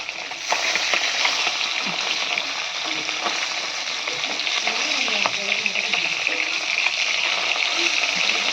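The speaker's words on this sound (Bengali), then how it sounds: "এদিকে দেখো বাটা মাছগুলো ভাজা হচ্ছে" Bata fish frying in hot oil, with a steady, dense sizzle and crackle throughout, close and loud, with occasional spoon stirring and no talk.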